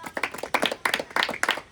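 Hand clapping, a quick run of close, sharp claps in uneven bursts with voices mixed in.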